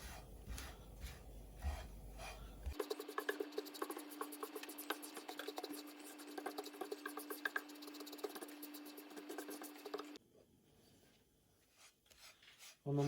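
A spoon or spatula scrapes and rasps steadily against a hot frying pan as flour is stirred and toasted on a gas stove, a continuous close scratching texture that stops abruptly near the end.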